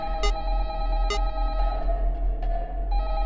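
A telephone ringing in the video game Five Nights at Candy's 2: two short, bright electronic rings a second apart over a constant droning hum, with faint clicks afterward.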